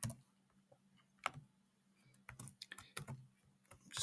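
Code is typed on a computer keyboard in sparse, close keystrokes and short clusters of clicks separated by brief pauses, over a faint low hum, with no speech.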